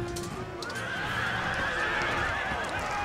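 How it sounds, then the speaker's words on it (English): Horses in an Empire Total War battle neigh and scream, with a long, shrill whinny rising over a dense roar of battle noise and faint hoofbeats. "Screaming horses."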